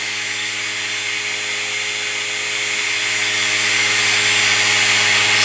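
An electric motor on a hyper-drive setup runs at about 300 volts, spinning a 6-inch drum with a loud, steady high-pitched whine that builds slightly in intensity throughout.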